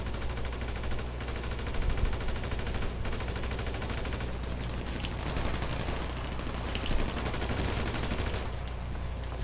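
Continuous gunfire rages in Grand Theft Auto V, a dense, loud, sustained wash of automatic shots and rattling fire with little pause, occasional sharper cracks standing out from the barrage.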